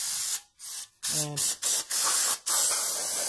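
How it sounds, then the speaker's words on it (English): Aerosol brake cleaner sprayed around a vehicle's rear differential during a fluid change, loud hissing bursts broken by short pauses, close by, with a brief spoken word in between. "grab yourself some brake cleaner, and we're going to spray around this area really quick."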